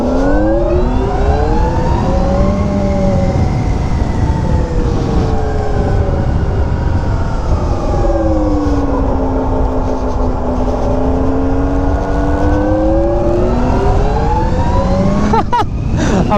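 An electric motorcycle ridden on a first outing through turns, giving a steady rising and falling electric whine with sweeping pitch over loud, constant wind and road rush, close and continuous.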